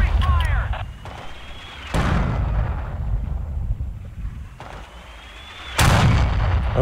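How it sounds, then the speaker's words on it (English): Mortar and artillery fire booms in the Forgotten Hope 2 Hurtgen Forest battle, with heavy rumbling blasts and sharp impacts striking near a trench, punctuated by several loud explosions amid a continuous low, windy combat roar. "Their mortar is trying to hit me in the trench."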